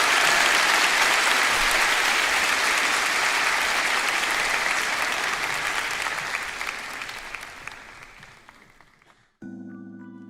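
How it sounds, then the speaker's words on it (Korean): Sustained congregation applause at a youth-group church worship service, dense and loud at first, then thinning and fading over several seconds before a brief tonal sound at the end. "우리 주님께 영광의 박수 올려드리겠습니다."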